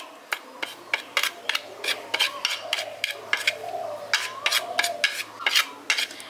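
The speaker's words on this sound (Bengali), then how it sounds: "এবার এই সমস্ত মশলাগুলোকে আমি মিশিয়ে নিচ্ছি।" Chili and pepper powder spices being mixed in a bowl, a run of regular scraping clinks from a spoon against the container, close and moderately loud.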